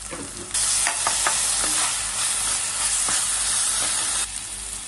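Onions with ginger garlic paste frying in oil, a close, steady sizzle that swells in after a brief pause, broken by a few stirring scrapes before it drops back at the end.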